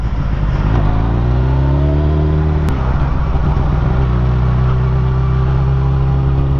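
A Yamaha motorcycle engine holds a steady rev around 2000 rpm below full throttle, loud and close, with a sharp pitch shift partway through and a continuous droning hum throughout.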